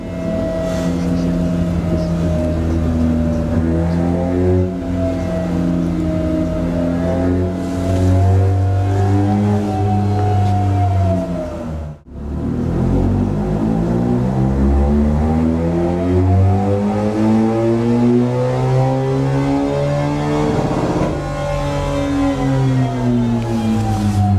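A loud BMW R1250GSA motorcycle engine drones and revs steadily on a dyno in a sound-insulated room, pitch climbing and falling in long sweeps, with a brief drop midway before winding back up.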